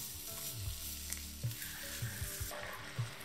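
Spinach sautéing in a small frying pan while a breakfast is made, with a steady low sizzle broken by several soft stirring bumps and pan knocks, up close and without talk.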